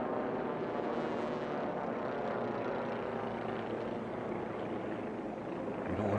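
A DG2 racer plane in a Formula 1 air race heat drones steadily and loudly as it passes, its propeller engine filling the air with an unbroken roar.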